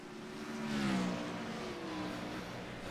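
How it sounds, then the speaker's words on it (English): Engine roar swells and fades as a race car speeds by at Talladega, its pitch sliding downward, followed by a continuing distant engine drone. "Turn this up so we can hear these cars a little bit better."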